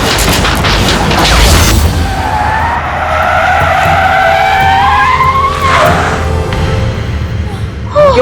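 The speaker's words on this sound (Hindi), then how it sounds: "क्या हो गया गाड़ी को?" A car skids loudly to a halt, a broad tire-scraping rush with a faint squeal, followed by a sustained mechanical whine and rumble as the vehicle breaks down on the road.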